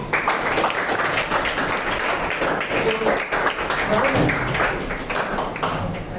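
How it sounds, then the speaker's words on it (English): An audience at a talk gives a big round of applause, dense sustained clapping lasting several seconds. "Can we have a big round of applause for Arush?"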